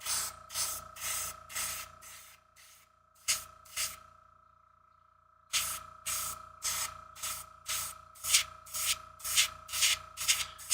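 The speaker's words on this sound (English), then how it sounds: "painting different models with an airbrush is crazy" Airbrush spraying paint onto a miniature model in short, rhythmic hissing bursts, with a pause in the middle before the bursts resume. The sound is close but quiet, and no one speaks.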